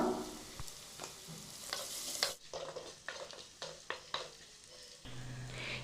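Ingredients for a mackerel fish curry sauté in a pan with turmeric and salt, sizzling closely as a spoon scrapes and stirs in short, irregular strokes.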